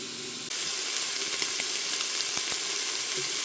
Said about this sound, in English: Once the sausage is cooked down and nice and browned